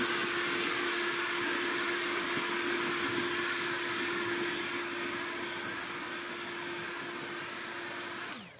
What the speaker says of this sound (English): Look how powerful this backpack blower is.